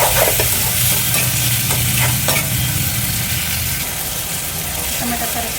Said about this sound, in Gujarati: ડુંગળી ગોલ્ડન બ્રાઉન થઈ ગઈ છે. નાખી દઈશું ટમેટા.